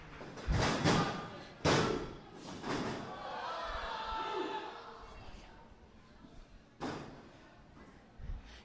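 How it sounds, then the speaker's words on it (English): Wrestling match: a powerbomb slams a wrestler onto the ring mat with a loud, sharp thud, followed by several more heavy impacts and crowd murmur, with commentators talking over the action. "She powerbombed him."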